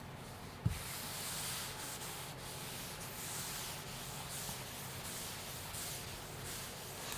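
A duster rubs formulas off a classroom board in steady, continuous scrubbing strokes with a brief knock near the start, close and moderately loud, with no talk over it.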